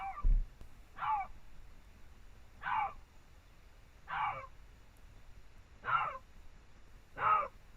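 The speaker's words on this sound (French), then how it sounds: "Ça, c'est le bruit d'un lynx qui crie." A lynx screaming: five separate harsh, wailing calls spaced roughly a second or more apart, each short and strained, moderately loud against a quiet background.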